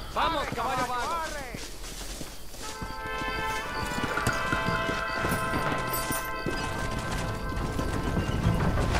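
Horse hooves clip-clop steadily during riding in Red Dead Redemption, a Western video game set on the road to Chuparosa, Mexico, close and moderately loud beneath game music, with a whinny early on and voices talking over the ride.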